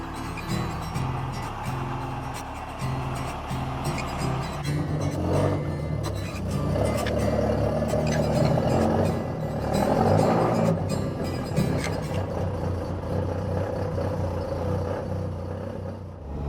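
Cars, including a Mk3 Escort, driven and maneuvered into a garage, engines idling and revving in a low rumble, nearby and continuous with shifting intensity.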